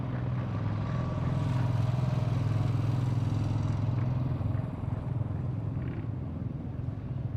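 A motorcycle engine drones steadily during a paramilitary constable's stunt and gym display at a raising-day celebration, a loud sustained hum that eases slightly toward the end.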